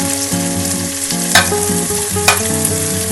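Green chillies, carrot, capsicum and beans stir-fry in a hot pan for egg fried rice, giving a loud, steady sizzle with two sharp scraping clatters of the spatula, no voices.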